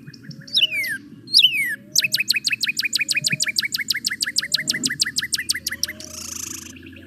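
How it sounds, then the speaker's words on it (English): A mourning dove's soft, low coos drift faintly and intermittently in the background behind a recording of a songbird, which sings loud, fast repeated chirping phrases in the foreground; no one talks. "There's a mourning dove in the background."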